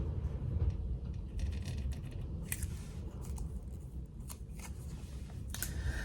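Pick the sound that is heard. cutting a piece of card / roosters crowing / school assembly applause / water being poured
cutting a piece of card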